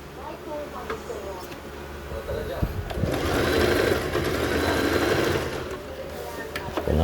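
Sewing machine running a zigzag stitch on shorts, a fast mechanical whirring burst that builds in the middle and then stops, close by, with a voice speaking before and after.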